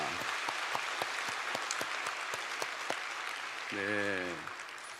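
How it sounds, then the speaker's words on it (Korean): A crowd at a church early-morning prayer service claps steadily for several seconds, a dense, even patter of many hands, with a brief voice rising near the end. "한번 박수 치겠습니다"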